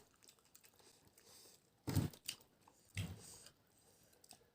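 Two crunchy, close-up chewing bursts from someone eating crisp Thai pounded beef tripe salad (tam pha khi riw), separated by about a second of quiet room noise.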